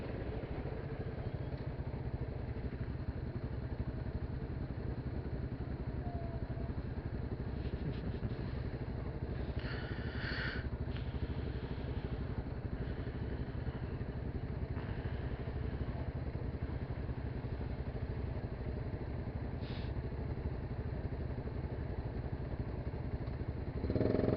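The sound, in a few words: motorcycle engine idling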